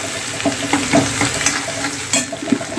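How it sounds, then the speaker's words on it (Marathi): Mustard seeds, cumin and ginger-garlic paste fry in hot oil, giving a continuous soft sizzle broken by small sharp pops and crackles from the seeds, close and moderately loud with no voices. "त्यामध्ये घालूया थोडंसं मोहरी, त्यानंतर जिरं, आलं लसणाची पेस्ट घालूया. छान असं फ्राय करून घेऊया."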